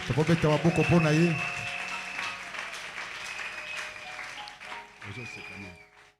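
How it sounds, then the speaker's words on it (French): Congregation applauding during a church service, a steady wash of clapping that runs for several seconds, with talk and sung or spoken voice over the start and again near the end. "On peut applaudir le Seigneur pour le papa pasteur."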